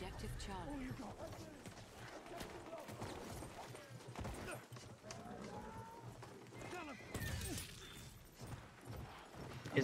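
Horses gallop and whinny in a multiplayer war video game, hoofbeats and neighs running throughout amid gunfire and game noise, with players talking over the top.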